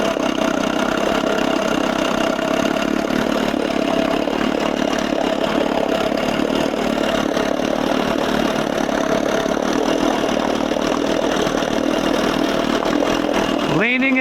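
A Johnson 6 outboard motor runs close and loud with a steady buzzing putter that slowly picks up speed as the fuel mixture is leaned, ending in a brief sharp rev.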